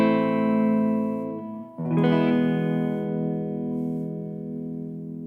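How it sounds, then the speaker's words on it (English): Two simple clean guitar chords played through pedals ring out warmly and sustain, the second strummed after a brief gap near the middle, close and with no talking. "So yeah, let's just have some simple chords."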